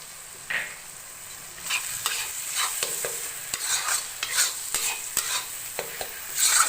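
Cashew paste being stirred into softened tomatoes in a pan for butter chicken, with repeated close scraping strokes and clicks against the pan over a light sizzle.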